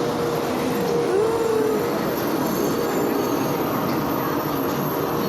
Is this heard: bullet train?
yes